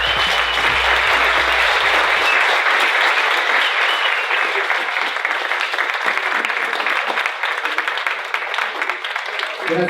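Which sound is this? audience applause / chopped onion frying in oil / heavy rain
audience applause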